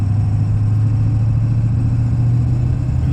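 Diesel engine of a vintage 1-ton pickup, a 98 or 99 6.5, pulling a water trailer into a straight headwind: a steady, loud low drone with a constant hum and road rumble, no pauses throughout.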